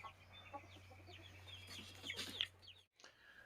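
Chickens cluck softly outdoors on a homestead, young birds mingling with bigger hens, a few faint clucks and chirps over a steady low hum that cuts off near the end.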